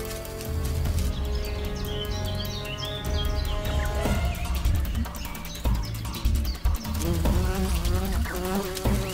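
A bee buzzes loudly and steadily while fighting an ant, its drone running the whole time beneath other sustained tonal sound, with no voices.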